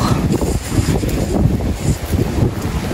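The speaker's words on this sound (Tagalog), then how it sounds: "Mahangin." Strong wind buffets the microphone in continuous low, rumbling gusts, loud and close, in a potato field, with no other sounds standing out.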